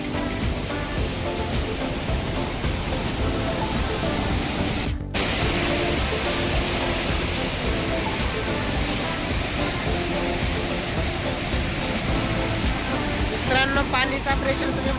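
High-pressure water rushes from the gates of Nandur Madhmeshwar dam, a loud, steady roar of spray that persists throughout with a brief dropout partway through.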